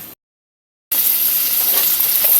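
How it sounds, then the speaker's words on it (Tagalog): Garlic and onion sauté in a pan with very little oil for a chicken, tomato and chayote dish; a brief silence gives way to a loud, continuous close-up sizzle. "Lagay na natin yung ating bawang, sibuyas."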